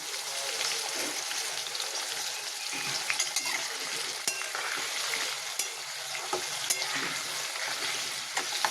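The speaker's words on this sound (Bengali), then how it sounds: "একটু ভাজা ভাজা হোক, তারপর ফুলকপিগুলো দেবো" Potato pieces fry in oil with salt and turmeric, a soft continuous sizzle with scattered crackles and occasional stirring scrapes, steady and fairly quiet, with no voices.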